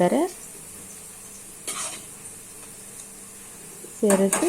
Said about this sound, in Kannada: ಸಾಂಬಾರು ಮಳ್ಳುತ್ತಿರುವಾಗ ಸಾಂಬಾರಿಗೆ ಒಗ್ಗರಣೆಯನ್ನು ಸೇರಿಸಿ